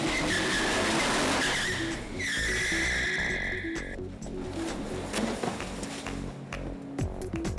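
Car tires spun on pavement coated with WD-40 on a film set freeway chase, a loud sustained squeal over heavy engine roar that shifts pitch and then gives way to rumbling engine noise.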